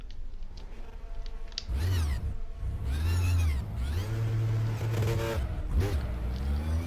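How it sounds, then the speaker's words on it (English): Audi R18 E-Tron Quattro race car in the rFactor racing game at the Nordschleife, its engine revving and shifting through repeated rising sweeps, loud and continuous under a low electric whine. "Like the sound of the car is going to sound really weird"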